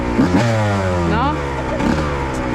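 A dirt bike engine revs up and down close by, its pitch sweeping and climbing in several surges while people talk over it.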